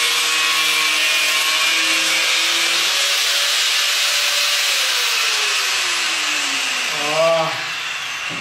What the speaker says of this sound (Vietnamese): cưa cả cái đầu cán vợt cho anh em luôn rồi